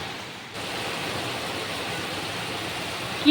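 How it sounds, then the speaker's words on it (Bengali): Heavy rain pours down steadily outdoors, a dense, even hiss that fills the whole clip at close range, with no voices. "আওয়াজ দেখো কেমন ঝমঝম ঝমঝম করে শব্দ হচ্ছে"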